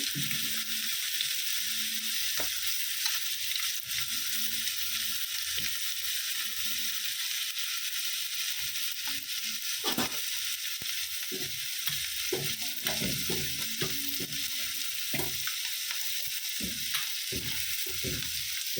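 Chili frying and sizzling in hot oil in a pan while cooking a garlic egg poach posto, with steady crackling and occasional stirring clinks and scrapes, no talking.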